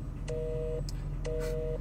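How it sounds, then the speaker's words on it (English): Telephone busy signal from a call to a fast-food restaurant, two clear repeating tone pulses with a gap between them, with some faint background noise. "Their phones are busy."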